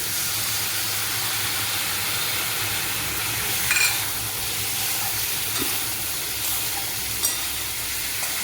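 Spice paste sizzles and hisses in a hot pan as it is fried for an elephant foot yam curry, a steady, close frying crackle with faint stirring scrapes and no talk.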